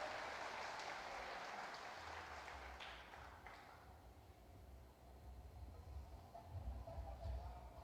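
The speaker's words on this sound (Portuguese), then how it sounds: "Dê um aplauso para o Senhor agora." A church congregation applauds, a soft, somewhat distant wash of clapping that fades slightly midway, with low rumbling room noise underneath.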